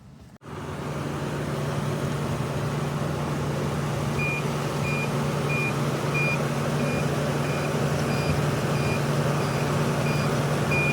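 A TOPTES RT-389 refrigerant leak detector alarm, used to check a car AC system for leaks, beeps in a steady evenly spaced series starting partway in, sitting over a constant broadband rushing hum.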